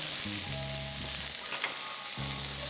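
Cajun-seasoned chicken frying in butter in a pan gives a steady close sizzle, with faint stirring or clinking tones underneath and no talking.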